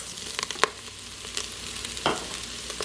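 Rice toasts in a pan with cooked onions, giving a soft, steady sizzle broken by a few sharper scrapes and clicks as it is stirred close by.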